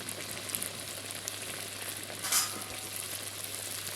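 Mughlai paratha fries in moderately hot oil with a steady, close crackling sizzle and fine spattering that barely changes, plus one brief brighter pop partway through.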